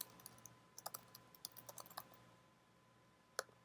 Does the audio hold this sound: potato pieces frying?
no